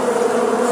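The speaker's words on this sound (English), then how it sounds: "Here comes the bees," A brief, steady buzzing of bees, close and fairly loud, with no voices.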